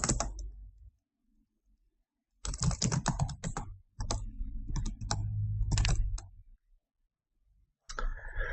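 Typing on a computer keyboard while entering a command to launch a Java Pac-Man game, heard as close, rapid bursts of clicking keystrokes in two main runs separated by pauses, with no talking.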